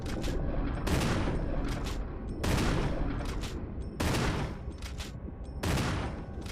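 Gunshots in the original Resident Evil, heard as five loud, evenly spaced blasts roughly a second apart, each with a sharp attack and a ringing decay that fades before the next, with no talk.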